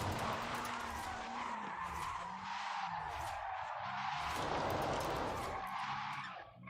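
A car drifts in Forza Horizon 5, its tyres skidding and squealing over a steady engine roar that holds loud and unbroken throughout, with no talking.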